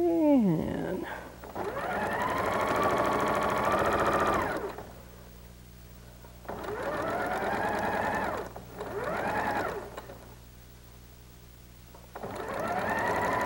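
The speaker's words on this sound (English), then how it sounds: "So we'll just sew off and onto our triangles." A home sewing machine chain-stitching quilt fabric triangles runs in several sustained whirring bursts of a few seconds each, loud and close, separated by brief pauses.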